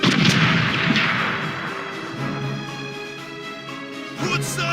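Pirate ship cannons fire in the Corsairs Legacy video game, a loud, close barrage of booming shots with rumbling decay that rolls on continuously, and a fresh blast near the end.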